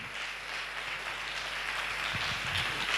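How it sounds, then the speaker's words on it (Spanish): A church congregation applauds to welcome a visiting pastor, a steady dense wash of clapping from a full room that holds evenly throughout with no voices over it. "Y yo quiero que lo recibamos con un fuerte aplauso."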